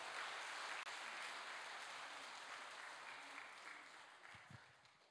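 A church congregation applauds to welcome a missionary, filling the space with steady clapping that slowly fades toward the end, with a few faint voices underneath.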